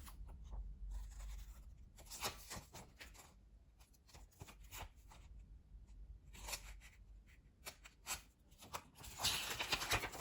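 Scissors snip and scrape through a fabric sewing pattern in a series of short, close, irregular cuts, with paper-like rustling between strokes and a louder flurry at the end.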